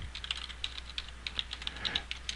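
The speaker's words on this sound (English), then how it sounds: "Now we're going to type in" Quick, light keystrokes on a computer keyboard as a router command is typed, a close, irregular patter of about a dozen clicks at low volume.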